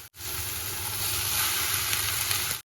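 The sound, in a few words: cooked rice being added and stirred into hot tomato masala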